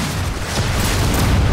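Rocket explosions in Gears of War 4 merge into a loud, continuous rumbling roar of booms and bursts, dense and close, with no clear separate blasts and no voices.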